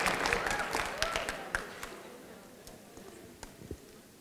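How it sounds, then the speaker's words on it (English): An audience applauds at a high school male pageant, a dense wash of clapping that starts strong and gradually thins and fades, with a few louder individual claps standing out near the end. "Let's give another round of applause for Mr."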